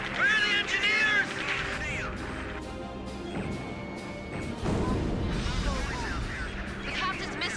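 Enemy gunfire and artillery crash and thud through a battle in Ace Combat 5, with loud impacts and explosions under radio chatter and game music.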